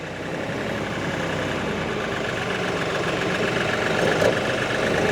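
Manual-transmission truck engine running steadily in first gear, a continuous mid-to-low droning hum with a slight rise in intensity near the end, no speech.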